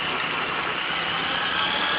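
A motorcycle engine runs while riding, a dense, continuous loud roar mixed with wind buffeting, steady throughout with no talk.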